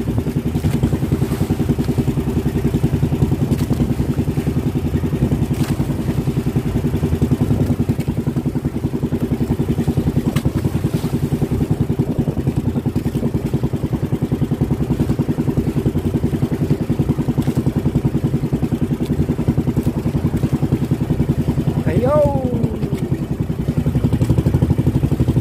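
A steady boat engine drones throughout at sea at a constant, loud level, with a low mid-pitched hum and faint clatter, running without pause.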